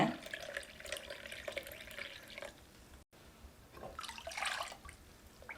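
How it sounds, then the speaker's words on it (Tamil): Tender coconut water trickles and drips quietly as it is strained in short pours with a pause in between, close by and soft, with no talking. "இளநீர் தண்ணி மூணு கப் அளவுக்கு வடிகட்டி எடுத்துக்கிறேங்க"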